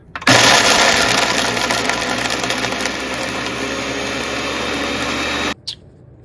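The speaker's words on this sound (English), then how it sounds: "now we're going to blend it all together" A blender pulses a blueberry bacon dog treat mix in one loud, steady whirring burst of about five seconds that cuts off abruptly, followed by a short clunk.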